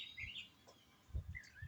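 Birds chirp outdoors in the rain, a few thin, high tweets and trills near and faint, over soft low patter.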